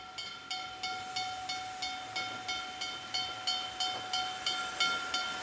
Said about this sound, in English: Visitors were able to experience steam engines up close.